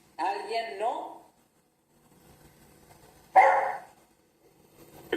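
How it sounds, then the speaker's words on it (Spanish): A dog barks nearby in two short bursts separated by a few seconds of near silence. "El perro, creo."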